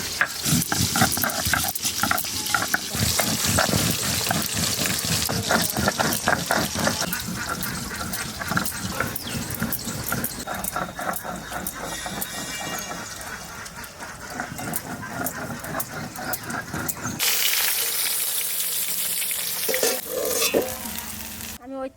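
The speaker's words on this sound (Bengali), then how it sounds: "তেলের মধ্যে একটু জিরে আর একটু তেজপাতা শুকনো লঙ্কা ভেজে রাখো" Cumin, bay leaves and dried red chillies crackle and spit in hot oil for a village fish curry, a loud, busy sizzle with rhythmic stirring scrapes that continues throughout, changing tone near the end.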